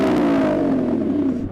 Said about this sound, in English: So I'm going to rev up this Lambo.